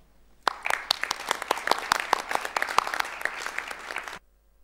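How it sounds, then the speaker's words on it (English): An audience at a women vendors' workshop applauds its speakers, a small group clapping at moderate loudness for about four seconds before stopping abruptly. "please give a big round of applause to them all."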